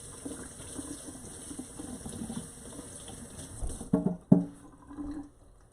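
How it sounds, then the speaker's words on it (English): Tap water runs steadily into a kitchen sink as hands are washed, a soft continuous wash with a few louder splashes and clunks near the end before it stops. "Let me wash my hands"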